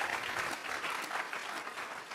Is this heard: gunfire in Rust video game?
no